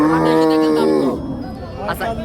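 A cow at a cattle market lows loudly and close in one long drawn moo, followed by faint market chatter and rustle.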